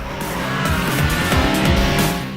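Race car engines roar loudly and continuously in the GRID Autosport racing game, with tires squealing and skidding through corners over a dense, sustained mix of engine noise.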